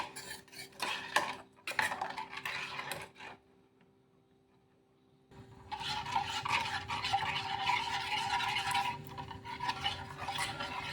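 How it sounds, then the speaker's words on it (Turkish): A spoon scrapes and clinks against a pot of cooking cherry sauce in steady, rapid stirring, which pauses for about two seconds and then resumes more continuously. The sound is close-up and has no talking over it. "Kaynayana kadar pişireceğim. Karıştırarak bir yandan."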